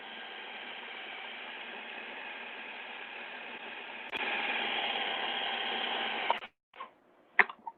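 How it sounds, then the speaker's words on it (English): A blender whirs steadily while blending hummus, its motor noise rising in loudness partway through and then cutting off, followed by a few clicks and clatters as it stops. "You're blending."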